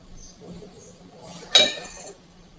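Ceramic dinner-set plates handled, including an 8-inch half plate, giving one clear bright clink against another piece with a short ringing tail over a quiet room.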